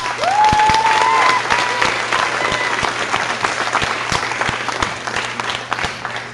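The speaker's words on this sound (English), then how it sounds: "please give the Callaways a round of applause" A theater audience at a school stage production applauds warmly for a host family, with dense, steady clapping that begins loud and gradually tapers off, accompanied by a brief whistle near the start.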